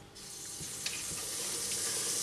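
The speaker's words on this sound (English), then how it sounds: "So my pan has started to sizzle" A frying pan heating for pesto meatballs and sauce begins a steady, soft sizzle, a continuous hiss that holds through the moment with no talking.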